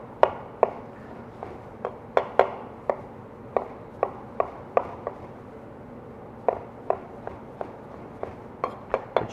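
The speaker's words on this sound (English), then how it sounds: "you can see as we're dicing it" Knife dicing a tomato on a cutting board, sharp close chops falling in quick uneven bursts with short pauses, no talking.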